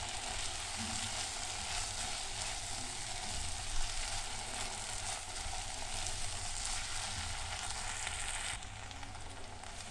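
Duck pieces sauté in a hot pan for stuffed duck with freekeh, a steady, close, loud sizzle and crackle of frying fat running unbroken throughout with no voices.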